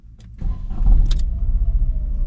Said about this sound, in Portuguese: Pronto, tá ligado o carro